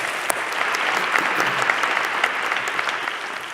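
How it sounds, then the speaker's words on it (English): A live audience at a talk event breaks into a steady round of applause, dense and sustained clapping filling the room with no speech over it. "give her a round of applause."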